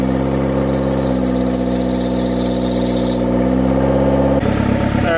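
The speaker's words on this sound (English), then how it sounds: "Just been idling for probably 10 minutes or so." A turbocharged Honda Civic sits warmed up at idle, its steady engine drone holding even and close before shifting character near the end with a brief change in tone.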